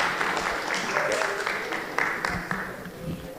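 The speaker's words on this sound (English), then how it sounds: "A round of applause for them as they come." Steady audience applause at a business forum in Accra fills the space, a dense wash of many hands clapping at moderate loudness with faint voices murmuring underneath.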